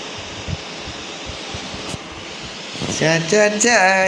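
A boat engine in the Call of Duty Mobile game drones steadily throughout, a continuous rushing hum, with a player's voice talking over it near the end.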